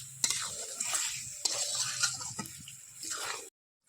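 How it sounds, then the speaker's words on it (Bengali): Chicken being stirred and sautéed in a pan with yogurt and cashew paste, a steady sizzle under repeated scraping strokes of a spoon, close and fairly loud, ending abruptly. "এর মধ্যে এবার দিয়ে দেবো টক দই এরপর দিয়ে দেবো কাজু বাদাম বাটা দিয়ে এটাকে একটু ভালো করে এবার কষবো"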